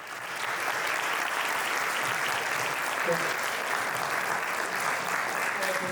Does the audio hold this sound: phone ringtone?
no